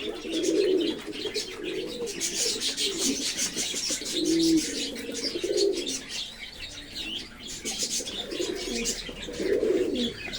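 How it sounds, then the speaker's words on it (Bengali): Fancy pigeons in a small loft give repeated low throaty coos in overlapping bursts, with light chirps and brief wing flutters nearby; nobody talks. "এখানে অনেক কবুতর রয়েছে, অনেক জাতের কবুতর রয়েছে।"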